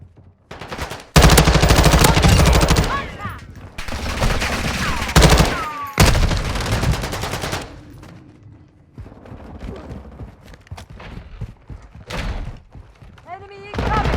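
Loud, dense automatic gunfire in a Call of Duty Vanguard team deathmatch, with rapid bursts of machine-gun fire and shots that come in waves and then fade to sparser pops, with voices talking over the fighting.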